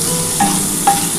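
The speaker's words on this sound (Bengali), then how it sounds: "এবার এই মূলোটা একটু ভালো করে ভাজা ভাজা হয়ে গেলে আমি কিন্তু এবার একটু নাড়াচাড়া করে ঢাকা দিয়ে দেবো।" Sliced radish with turmeric sizzles in hot oil in a pan, a constant close frying hiss. Two short scraping stirs cut through it about half a second apart.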